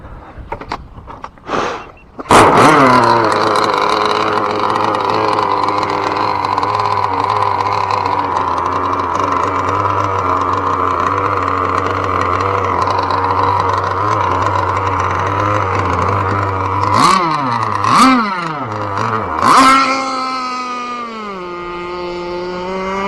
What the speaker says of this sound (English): we're just going to work on breaking in the engine, doing some laps, and having just a little bit of fun